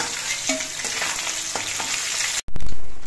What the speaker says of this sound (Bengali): একইভাবে আমি বাকি মাছের পিসগুলো ভেজে নিচ্ছি।